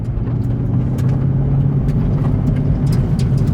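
A 2022 Chevrolet Camaro ZL1 1LE engine drones low and steady under throttle, heard loud from close by with road rumble, while a driver learns a manual transmission by circling slowly.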